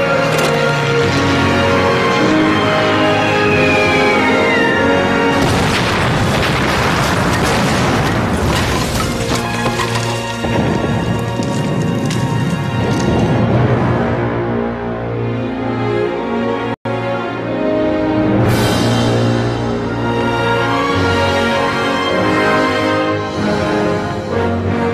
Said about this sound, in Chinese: 我轰炸机已经轰炸北纬31°3，东经120°6这一目标